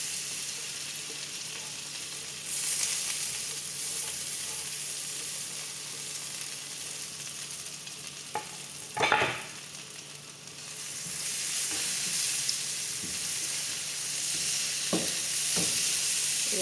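Finely grated coconut fries in a pan on the stove, a soft steady sizzle running throughout with a few scattered stirring scrapes and one louder clatter midway.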